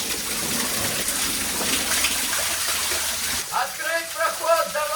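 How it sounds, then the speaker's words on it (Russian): Water gushes loudly down a drop in the level inside a large pipe, a dense, echoing rush. It eases in the final seconds as a faint voice-like tone rises over it. "Водопад, перепад уровня воды идет."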